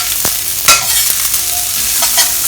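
A metal spatula clanks a few times against a cast iron wok over a steady, loud sizzle of frying food.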